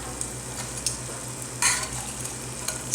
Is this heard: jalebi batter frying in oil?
yes